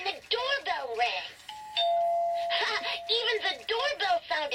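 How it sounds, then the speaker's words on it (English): Doorbell chiming inside a family home in an animated children's story, a short two-tone ring heard under a narrator's continuous voice. "the doorbell rang"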